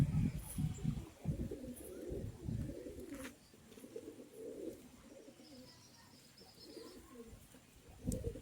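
Fantail pigeons coo softly after being soaked in rain, with low throaty coos in short bursts at the start and again near the end, fairly close but quiet.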